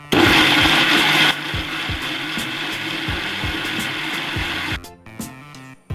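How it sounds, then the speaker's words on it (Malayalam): A kitchen blender whirs loudly as it grinds oats with low-fat milk into a smoothie, a steady motor drone that drops in pitch after a second, runs on, then cuts off with a few brief rattles near the end. "ഇനി ഇതെല്ലാം കൂടെ നല്ലവണ്ണം ഒന്ന് അരച്ചെടുക്കാം."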